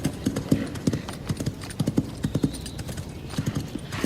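Horse hooves clip-clop steadily on a pavement in a period street scene, a brisk close rhythm of sharp knocks with a brief whinny, no voices.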